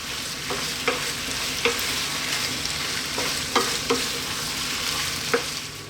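Chicken and bell pepper pasta being stirred through a sauce in a hot pan, with a steady sizzle and several sharper scrapes and clacks of the spoon at irregular intervals, close and fairly loud.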